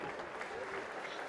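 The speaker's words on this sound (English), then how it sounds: "get on your feet, cheer for them" Crowd applauding polo players at The Villages Polo Club, a steady dense patter of clapping throughout, with some voices mixed in.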